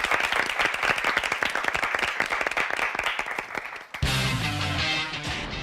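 Audience applause for two high school debate teams at a national assembly speaker's cup debate competition, steady dense clapping from a crowd throughout, shifting near the end to a louder burst with a musical sting.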